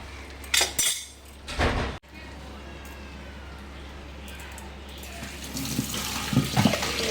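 Boiled banana flower and its cooking water poured from a pot, with a few splashy gushes and clatters of the pot early on, then a steady trickle of water under faint background noise.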